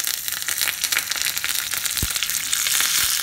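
Whole red chili and curry leaves hitting hot oil where mustard seeds are already popping in a small tempering pan on a gas stove for a South Indian peanut chutney, a loud steady crackling sizzle with a couple of sharp pops, close and without talk.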